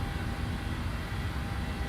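A Boeing 737 engine in Microsoft Flight Simulator hums in a steady, fairly quiet roar with no talk over it.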